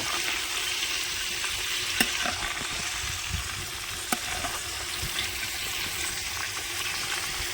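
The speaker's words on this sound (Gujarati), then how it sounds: "કેવી મસ્ત ફ્રાય થઈ ગઈ છે." Fish sizzles steadily in hot oil in a village kitchen, a continuous bright crackle with a couple of sharp clicks from the pan, close and fairly loud.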